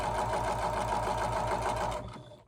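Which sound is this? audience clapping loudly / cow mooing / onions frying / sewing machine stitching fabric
sewing machine stitching fabric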